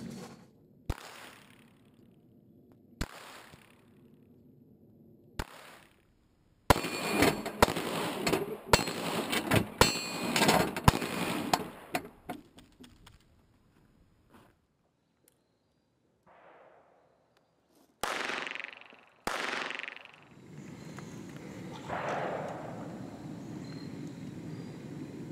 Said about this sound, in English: we just finished shooting the LCR 22